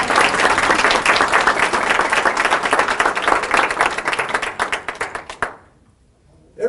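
Studio audience at a National Quilting Day kickoff event applauds an artist, loud dense clapping that tapers off and stops abruptly, leaving near silence.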